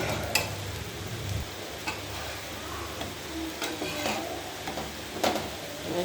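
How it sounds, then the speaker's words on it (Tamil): Bread slices toasting in ghee on a dosa griddle, a steady soft sizzle and crackle running throughout with a few light clicks of a utensil, close and moderately quiet with no talking. "ப்ரௌன் கலர் ஆகிற வரையும் இதை டோஸ்ட் பண்ணிக்கலாம்"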